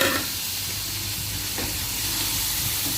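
Shrimp frying in a pan with butter, garlic and chili, giving a loud, continuous sizzle and hiss that fills the whole stretch with no talk over it.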